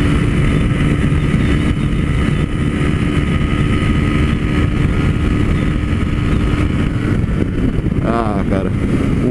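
DK 160 motorcycle riding at speed as the rider attempts a top-speed run, its engine a steady continuous drone mixed with strong wind rush throughout, with a brief rising whine near the end.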